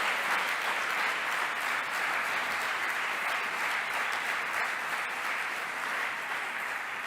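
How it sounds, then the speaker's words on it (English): Sustained audience applause fills a European Heritage Awards ceremony hall, a steady dense clapping from a large crowd that holds at an even level throughout, with no speech over it. "can I ask you to give them a big applause?"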